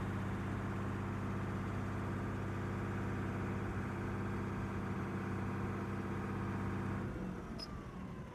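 A tractor with low oil pressure and six broken oil hoses runs with a steady, droning engine hum at close range, then cuts off near the end, leaving faint background noise.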